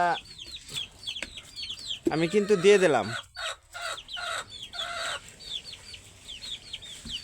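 Desi chickens cluck and chirp repeatedly, near and lively, as broiler feed is scattered for them, with a louder squawking burst midway; someone speaks briefly over the birds.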